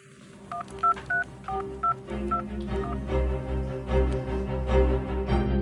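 Telephone keypad tones beep in a quick run of about eight short, evenly spaced presses, then a steady tone with ringing hum continues underneath, loud and close.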